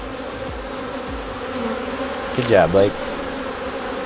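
Honeybees hum around a bee castle hive, with repeated short high buzzes of insects flying close past. A voice speaks briefly over the humming.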